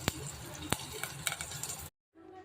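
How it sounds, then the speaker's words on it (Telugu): Curry leaves and dried red chilies sizzling in oil for a ridge gourd curry, a soft crackling hiss with a couple of sharp spoon taps before it cuts off abruptly. "ఇప్పుడు నెక్స్ట్ కొన్ని కరివేపాకు యాడ్ చేసుకుంటున్నా. అండ్ ఎండుమిరపకాయ."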